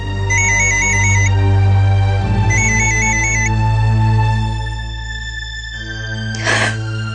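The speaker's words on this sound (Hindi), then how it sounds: "किसका फोन है?" A phone ringtone plays a repeating electronic melody in two bursts over a steady music-like drone, loud and close, with a brief noisy rustle near the end and no speech.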